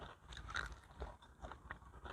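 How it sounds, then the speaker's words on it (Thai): Crunchy fair food being chewed close up at a Thai agricultural fair in Sriracha, with soft repeated bites and crunches spread across a short stretch and no talking. "เพื่อน ๆ ได้ยินเสียงเคี้ยวไหม"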